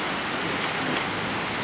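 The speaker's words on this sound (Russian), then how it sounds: "Что-то дождь сильно уменьшит," Heavy rain pouring during a summer thunderstorm in Kimovsk, a dense steady hiss of drops hitting surfaces, loud and continuous with no distinct thunder.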